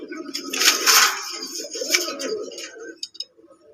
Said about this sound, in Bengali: শাটিন কবুতর। আপনার আমি একটু দেখানোর জন্য চেষ্টা করি, নটটা ডাকটা একটু দেখানোর জন্য চেষ্টা করি আপনাদেরকে